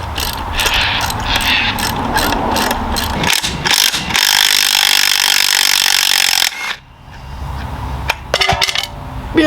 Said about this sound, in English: I've just chucked an old bolt in there so the puller doesn't have to go right to the end to start pulling it off